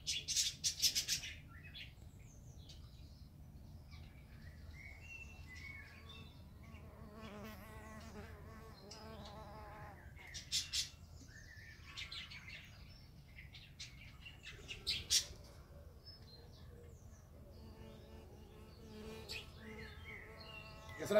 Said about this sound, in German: Ich kann es da oben eine Biene sehen, die Wespen.